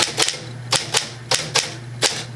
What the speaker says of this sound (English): And this is a double ribbon typewriter.